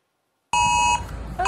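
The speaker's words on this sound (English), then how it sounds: "the government has set to trial with siren-like beeps" A government emergency alert test sounds on a phone after half a second of silence, with loud siren-like electronic beeps in two bursts, close and clear, and no talking.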